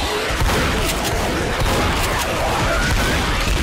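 Shotgun fire in the zombie shooter Left 4 Dead comes as a loud, dense, continuous barrage of blasts and booms with no pauses between shots.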